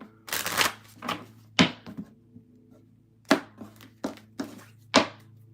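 A tarot card deck being shuffled by hand, giving a series of short, crisp riffling and tapping bursts spaced irregularly, close and fairly loud over a faint steady hum.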